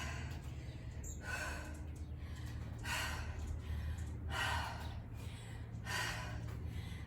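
Heavy breathing of someone resting between sets of a Cell Block Tango themed workout, with repeated loud exhales about every one and a half seconds, close and alone without talk.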